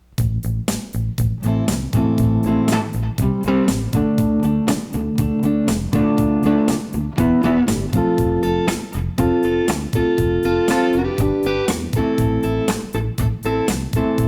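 An electric guitar strums a repeated chord groove in quick, even eighth-note rhythm, loud and continuous without pause.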